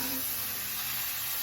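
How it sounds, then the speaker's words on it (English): Onions added to cheesesteak meat in a hot pan give off a steady, even sizzle. The frying hiss is continuous and fairly close, with no talking over it. "Get our onion in here and get it cooking up real good."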